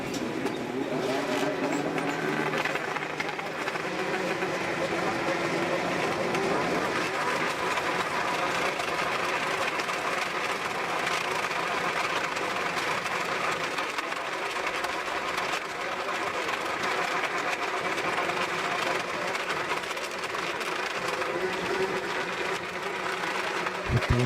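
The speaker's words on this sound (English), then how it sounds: "And firing up the engines." Snowmobile engines idle and rev together in a steady, droning roar at a snowcross race start line in Kauhajoki, Finland, heard at a moderate distance with a crowd murmuring in the background.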